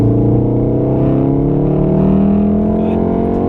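A Golf R accelerating at full throttle on a race track, heard from inside as a loud, steady engine drone whose pitch climbs smoothly through the pull.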